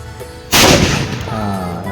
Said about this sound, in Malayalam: അങ്ങനെ നമ്മുടെ വെടി വഴിപാട് നടന്നു